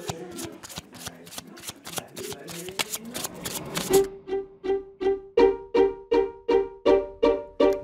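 A deck of playing cards is shuffled up close: a rapid riffling burst of dense flutters, then about ten crisp, evenly spaced bridging snaps, each one loud and distinct, with no one talking.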